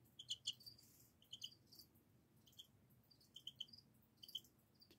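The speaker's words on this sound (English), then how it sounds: "There's one cricket making a lot of noise." A single cricket chirps in short, high, trilling bursts with pauses between, quiet but clear against a faint low hum.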